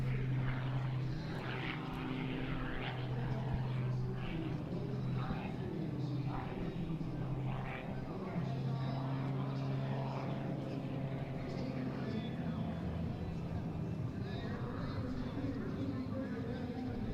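A propeller aerobatic plane performs low rolls along the runway at the NAS Oceana air show, its steady droning engine note sustained throughout while an announcer talks over it.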